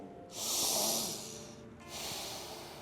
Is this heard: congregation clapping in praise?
no